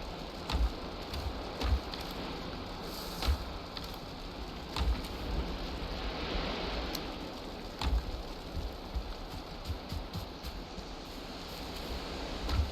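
Steady rain in the Valheim game world, a dense even hiss of falling drops with a few brief louder taps, continuous throughout at moderate volume.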